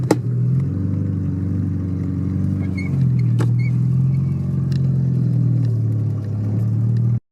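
A Dodge Rampage pickup's four-cylinder engine, with no power steering, built up for the Gambler 500, drones in a steady, loud low rumble with slight rises in pitch as it is revved, close by.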